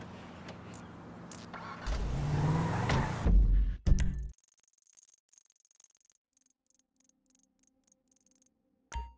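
A car engine in a driving video game revs and rumbles loudly for about four seconds, then cuts off abruptly, leaving faint intermittent high-pitched ticking.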